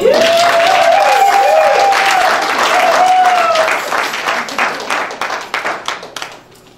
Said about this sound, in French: Mais on peut acclamer s'il vous plaît